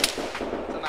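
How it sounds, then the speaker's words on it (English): Gunfire in the Arma military shooter game: a short, loud burst of close shots cracking in quick succession. "this fucker is shooting me through the really tiny window"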